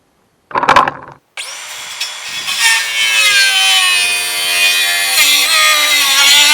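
A power saw cuts through a framing board for a cabin's gable end, starting with a brief knock, then a loud, sustained high whine close by that holds for several seconds.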